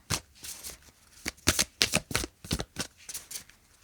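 A deck of tarot cards is shuffled close up in a series of crisp riffling bursts and soft flutters, irregular in rhythm, with no talking.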